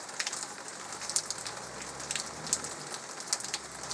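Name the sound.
rain falling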